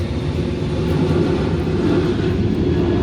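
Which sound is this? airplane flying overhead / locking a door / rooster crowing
airplane flying overhead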